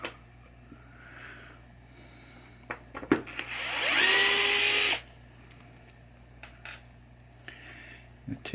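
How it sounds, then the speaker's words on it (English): A power drill unscrews the base screws of a 1976 Williams Grand Prix pinball machine, a single close whirring burst of about two seconds with a rising whine, set between quiet clicks and handling noises. "we got 4 screws right here that hold this base on, and we will take them off"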